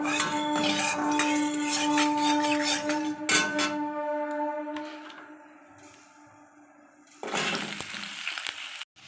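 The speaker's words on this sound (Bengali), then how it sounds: "এবার কড়ায় তেলটা দিয়ে দেবো, দিয়ে আনাজগুলো ভেজে নেব।" Mixed vegetables fry in oil in a wok for vegetarian khichdi, with a busy sizzle under a steady tonal hum, a quieter stretch, then a renewed loud burst of frying near the end.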